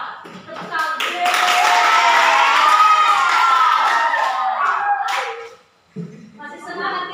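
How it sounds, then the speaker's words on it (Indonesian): A classroom of students claps together in a loud, sustained burst lasting several seconds, with shouts and cheers mixed in, before it stops abruptly and voices follow. "Tepuk tangan."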